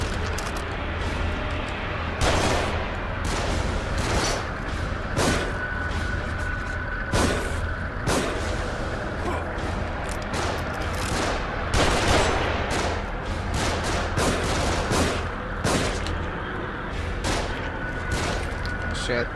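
Gunfire from enemies shooting down from above in The Evil Within, scattered sharp shots cracking every second or two over a steady rumbling backdrop, with voices talking in between.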